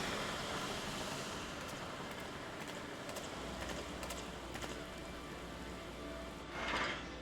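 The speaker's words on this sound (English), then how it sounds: "Is it raining?" Steady rain patters down during a boat ride arriving at its destination, a continuous close hiss of drops on surfaces with a brief louder splash near the end and no talking.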